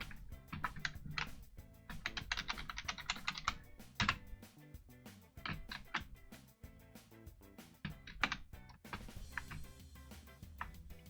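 Rapid bursts of computer keyboard typing while entering a password, with quick uneven runs of close, crisp key clicks separated by short pauses, no voices.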